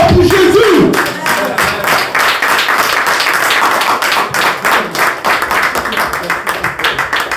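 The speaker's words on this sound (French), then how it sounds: "Acclamons très fort pour Jésus." A church congregation applauds loudly for Jesus during a worship service, with rapid dense clapping from many hands close by, following a brief voice at the start.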